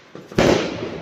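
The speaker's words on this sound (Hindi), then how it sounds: "तुम नहीं चला रहे पटाखे" A single sharp firecracker bang bursts out close by during Diwali, followed by a brief crackling fizz as it fades.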